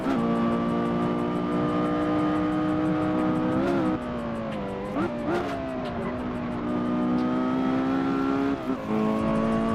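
Porsche Carrera GT V10 engine in a racing video game, a loud continuous high-pitched howl that holds steady, dips through gear shifts around the middle, then climbs again with brief tire squeal.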